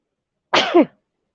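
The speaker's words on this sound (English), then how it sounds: "I think I got my 3 sneezes in now." A single short sneeze bursts out close by, a sharp explosive breath followed by silence.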